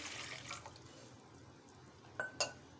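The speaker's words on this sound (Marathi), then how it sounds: "1 तांब्या भरून पाणी ओतत आहे।" Water poured from a jug into a metal idli steamer pot with a soft, brief splashing rush, followed later by two sharp metallic clinks.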